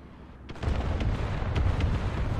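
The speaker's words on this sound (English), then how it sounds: "An artillery strike kill?" Artillery strike explosion in a World War II tank video game, a sudden heavy blast followed by rolling, rumbling debris and echoing booms, loud and close.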